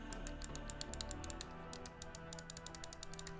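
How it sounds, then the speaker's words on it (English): Side buttons on a Lamzu Atlantis Mini gaming mouse clicking rapidly, crisp close clicks in uneven runs and pairs, somewhat softer and less rattly, alone without talk. "The side buttons here don't sound quite as loud and crazy as the old one did"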